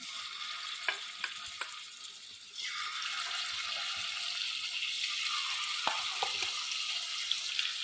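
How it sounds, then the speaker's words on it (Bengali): Chicken pieces sizzle in hot ghee in a wok, a steady bright crackling fry that swells louder as more pieces go in, with occasional clinks and scrapes of stirring. "চিকেনগুলোকে ভেজে নেব।"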